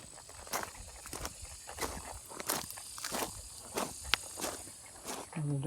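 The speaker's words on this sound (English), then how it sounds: "And the darn cicadas." Cicadas drone outdoors at a reptile-hunting site in a steady high-pitched buzz that runs throughout, mixed with nearby footsteps and rustling in brush.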